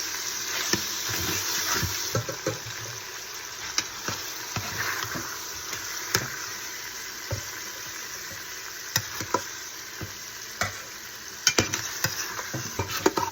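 Chicken browning in a pot for chicken noodle soup, a steady sizzle broken by frequent scrapes and clinks as the pieces are stirred and turned.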